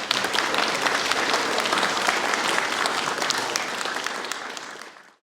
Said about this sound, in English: Would you just put your hands together